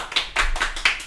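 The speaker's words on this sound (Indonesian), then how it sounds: "Ya, tepuk tangan dong." A small handful of claps, four quick hand claps in a loose rhythm, close and brief.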